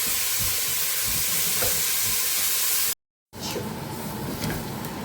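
Sliced onions frying in a pan for mushroom biryani, a steady loud sizzle with scraping stirring, cut by a brief silence before the sizzle resumes.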